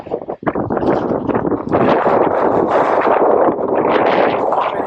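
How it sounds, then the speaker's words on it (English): Strong winter wind roars and buffets the microphone high on a mountain in the Cheviot Hills during a long-distance race, loud, continuous and gusting throughout. "It's windy up here."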